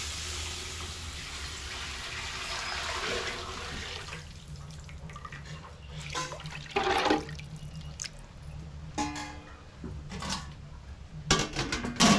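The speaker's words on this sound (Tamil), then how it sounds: "அக்கா வந்து மீன் வந்து அலசிக்கிட்டு இருக்காங்க" Small carp fish are rinsed in water, with a continuous splash and trickle from a tap and intermittent sloshing and clattering of a vessel, heard close and alone.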